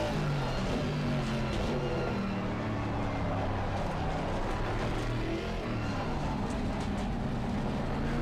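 McLaren Artura engine on the Nürburgring Nordschleife in a racing video game, a steady mid-level drone whose pitch rises and falls as it revs through gears for the whole stretch.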